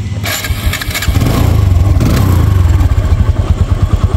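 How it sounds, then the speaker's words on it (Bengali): A TVS Apache RTR 160 motorcycle, second-hand, starts up loudly close by, catching after a brief crank and settling into a steady, rapid, throbbing idle. "তো স্টার্ট করে সাউন্ড কন্ডিশন দেখো"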